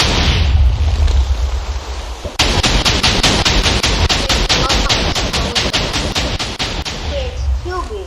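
Dynamite from a Minecraft-style TNT mod goes off in a rapid chain of loud, close blasts that pound for several seconds after a stretch of rumbling noise, then fade into a lingering roar.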